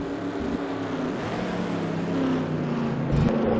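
Race cars in a NASCAR video game at Canadian Tire Motorsport Park, with the top two spinning out on the same corner: a sustained engine drone with shifting tones rising toward the end, loud and close, no talk.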